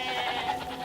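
A single goat bleat, drawn out and wavering, sounds at moderate distance and fades after under a second.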